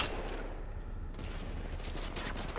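Bursts of automatic gunfire in Apex Legends Mobile run in a dense, steady stream across the whole moment, loud and close, with no talk over them.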